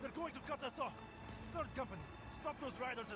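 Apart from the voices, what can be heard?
No everyday noises stand out.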